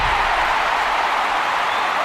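Large stadium crowd at the Olympic Stadium roaring and applauding after a men's javelin throw that set a personal best, a broad sustained wash of cheering at steady loudness throughout.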